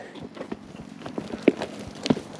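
Horse hooves clip-clop in an uneven walking rhythm on hard ground, close by, with a couple of louder strikes.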